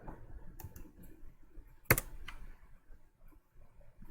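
A computer keyboard gives a few faint, scattered key clicks in a quiet room while a command is typed, with one sharper, louder keystroke in the middle.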